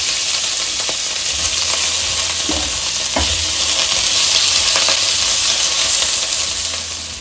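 Paneer pieces shallow frying in oil while being stirred: a loud, dense, continuous sizzle close up, with a few faint scrapes of the spoon through the pan.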